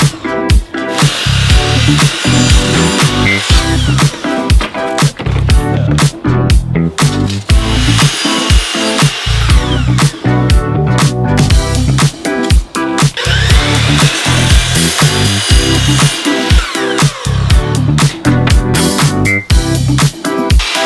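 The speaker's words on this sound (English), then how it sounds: "set up my miter saw so I could start making cuts" A miter saw cuts shiplap wood boards, loud and close, with repeated bursts of whining blade and chopping cuts separated by brief gaps, in an outdoor setting, no talk.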